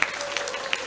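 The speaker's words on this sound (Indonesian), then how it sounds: "kita semua berikan aplaus yang meriah untuk beliau" An audience claps for a lecturer at the close of an academic lecture session, a soft, steady patter of applause with a few sharper claps standing out, heard at some distance.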